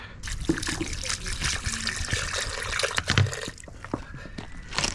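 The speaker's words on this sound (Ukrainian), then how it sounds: "Потім споласкуємо звичайною водою і десь ставимо його сушитися." Water is splashed and trickled over an enduro motorcycle's air filter during a rinse, a close, irregular dribbling and sloshing with bursts of splatter, and someone talks over it.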